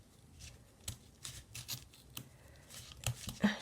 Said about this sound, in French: Je pense que mes ciseaux ils ont besoin de nettoyage.